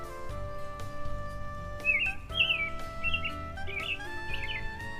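Bright, repeated bird chirps and tweets in short bursts over a steady musical background in a children's story about a little dragon befriending a bird.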